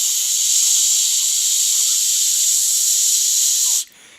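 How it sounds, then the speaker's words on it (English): A Ninja Foodi pressure cooker's release valve vents steam in one loud, steady, close hiss that holds for nearly four seconds and then cuts off abruptly, leaving faint room noise. "here I am turning the valve, so we are releasing all pressure"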